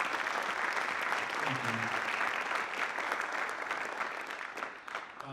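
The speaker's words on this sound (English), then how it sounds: "could we please have a round of applause for them?" An audience at a high school winter band concert applauds its administrators, steady dense clapping filling the hall throughout, with a brief spoken thanks over it.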